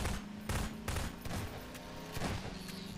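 Rapid gunfire rattles in Half-Life 2 Synergy multiplayer, with several sharp bursts in quick succession over a low hum, loud and close with no talk.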